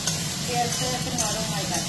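Marinated chicken sizzles and fries in a pan, a steady close hiss with occasional stirring scrapes throughout.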